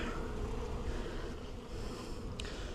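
Honey bees swarming around an old, twelve-year-old hive during a removal, a steady low droning buzz that stays fairly even and close throughout, with no voices.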